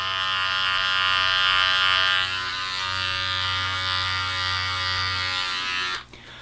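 Wahl hair clipper fitted with a number 2 guard trimming sideburns, a loud, close, steady electric buzz with slight shifts in pitch as it meets the hair, cutting off near the end.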